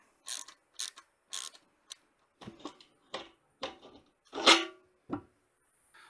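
A ratchet and socket working loose the bolts on a fuel tank, several short separate bursts of clicking with brief pauses between them, close and fairly clear, no talking.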